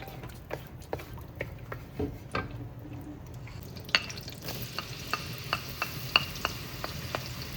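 Garlic frying in hot oil, a faint continuous sizzle punctuated by regular sharp crackles and pops, with no voices.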